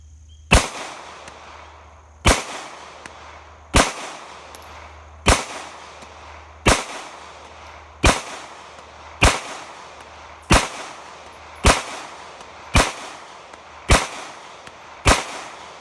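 A Taurus PT111G2 handgun fires a magazine, eleven sharp loud shots spaced evenly about one and a half seconds apart, each with a short ringing decay and no talk.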